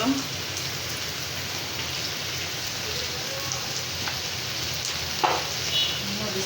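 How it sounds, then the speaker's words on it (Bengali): Vegetables frying in oil in a pan, a steady, even hiss of sizzling close by with a couple of faint clicks and no talk over it. "ভাজি করলাম প্রথমত তেলের মধ্যে ডাসগুলো দিয়ে দিলাম"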